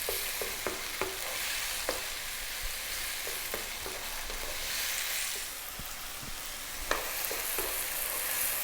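Tomatoes cooking down in a pan above medium heat while being stirred, with a continuous soft sizzle and frequent sharp scrapes and taps of a utensil against the pan, close by and without speech.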